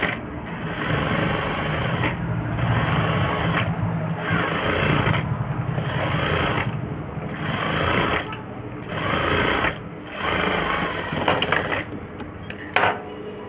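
Sewing machine stitching around the neck of a blouse with embroidered work, a steady close mechanical whir running in repeated bursts with brief pauses, under a voice talking throughout.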